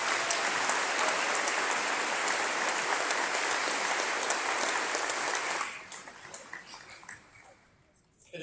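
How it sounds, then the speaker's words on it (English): An audience applauds the American Legion Post 377 band at the National World War II Museum, a dense, sustained roar of clapping that fades after about six seconds into scattered claps. "please join me in a round of applause"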